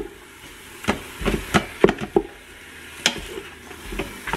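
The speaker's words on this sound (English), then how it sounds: "I have chopped up some onions and garlic here, and so I am going to put that in to slow cook, and I'm also going to add my ground beef." Chopped onions, garlic and ground beef sauté in a pan, with a soft, low sizzle under a series of sharp spoon clacks and scrapes from stirring.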